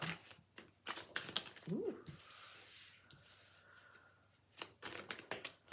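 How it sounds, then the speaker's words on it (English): Tarot cards shuffled by hand in a quiet room, a soft run of riffling, tapping flicks that come and go over several seconds, with a brief voiced exclamation. "Okay, let's start shuffling."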